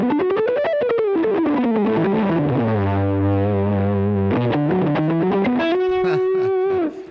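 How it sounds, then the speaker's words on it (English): A heavily distorted electric guitar through an overdrive pedal with gain maxed plays gliding, sustained notes with thick, saturated overdrive, bending low then climbing, ending on a held buzzing tone. "now you're hearing all that transient gain noise cranking out"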